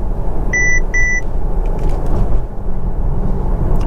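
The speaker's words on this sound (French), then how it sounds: "C'est quoi ces bip bip là?" Two short electronic chimes sound inside a Mercedes GLC300e Coupé 4MATIC plug-in hybrid, heard over the steady low rumble of the car on the road.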